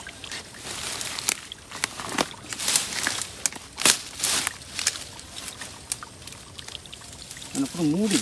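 Water pours and splashes in an irregular stream with scattered knocks and rustles, while people talk nearby.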